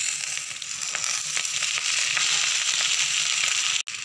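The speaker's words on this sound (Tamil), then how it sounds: "இப்போ நம்ம இதில் வந்து ஃப்ரை பண்ணி வச்சுருக்கிற நாசி கோரெங்க சேர்த்துக்கலாம்" Fried nasi goreng hits scrambling eggs in a hot pan, giving a steady loud sizzle and crackle with light scraping. One brief gap near the end.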